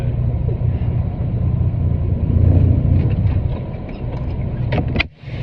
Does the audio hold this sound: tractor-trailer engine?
yes